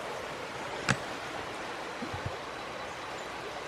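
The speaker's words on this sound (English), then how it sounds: "Beautiful little creek in here." A small creek flows quietly in the bush west of Coffs, giving a soft, steady trickle with a few faint clicks and knocks.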